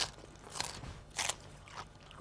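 Crisp Cos lettuce crunches in a kitchen, three or four quick, sharp snaps spaced apart, quiet and close.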